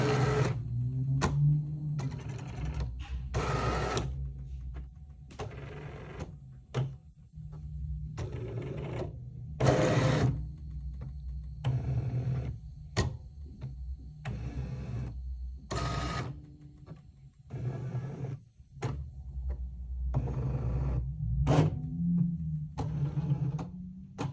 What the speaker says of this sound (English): it's going to scan those registration marks, and that will tell the machine where it needs to cut